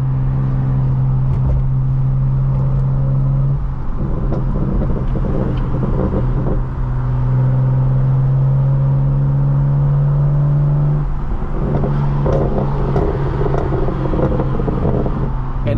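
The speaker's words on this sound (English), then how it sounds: "Some more exhaust action for y'all." An almost two-decade-old BMW E92 coupe drives with its loud exhaust, a steady close droning engine note rising and falling with throttle changes, heard from inside the car with no talking.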